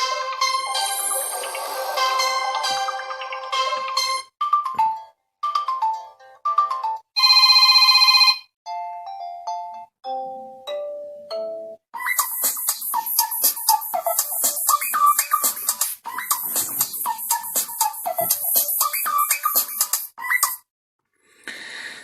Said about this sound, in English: If you go into settings here and sound, I just want to show the ringtones.